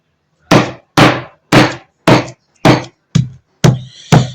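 Eight heavy, evenly spaced thuds of a meat tenderizing hammer pounding steak for chicken fried steak on a board, loud and close, about two blows per second with no talking.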